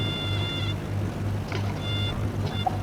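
In a simulated Cessna 152 landing, a high, thin stall warning tone sounds in several short bursts over a low, steady engine hum inside the cockpit.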